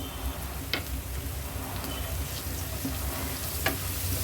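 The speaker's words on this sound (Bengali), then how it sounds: "হলুদের গুঁড়া, ধনিয়ার গুঁড়া, জিরার গুঁড়া সব 1 চামচ করে" Ground turmeric, coriander and cumin fry in hot oil for a potato and fish-roe dish, giving a steady, close sizzle with a few faint ticks and no talking.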